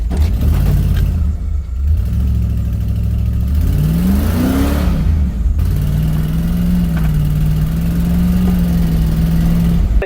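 The 5.8-litre engine of a Ford E350 van runs loud and close, idling with a deep rumble before one sharp rev that rises and falls, then settles into a steadier, slightly raised drone; no voices are heard.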